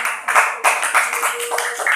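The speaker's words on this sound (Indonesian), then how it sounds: "kita kasih tepuk tangan untuk jawaban" A classroom of students claps for a classmate's answer, a dense two-second patter of hands with a brief break partway through, close and moderately loud.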